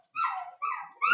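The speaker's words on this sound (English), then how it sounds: "We almost had the whole video done without the dogs barking." Dogs barking indoors, two sharp barks close by, then a third starting at the end, loud against an otherwise quiet room.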